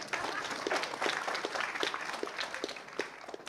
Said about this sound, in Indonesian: terima kasih Pak Prabowo, tepuk tangan untuk rezimnya.